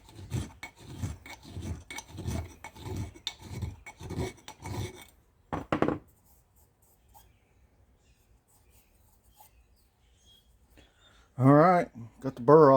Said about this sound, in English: Guess that's what the good old file's for, huh?